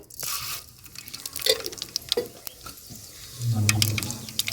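Cumin, mustard seeds, urad dal and chana dal dropped into hot oil in a village kitchen, giving scattered crackles, pops and a steady sizzle with clinks from a pan or utensil.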